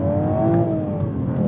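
A Toyota GR Supra engine revs high and holds against its soft limiter, a loud, steady, close droning tone with a slight wavering pitch and no voices.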